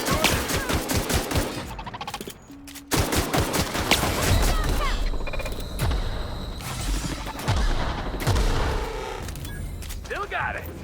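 Rapid gunfire from a Mark II pistol in the Outer Worlds video game, loud repeated shots in dense bursts over game sounds and a voice talking.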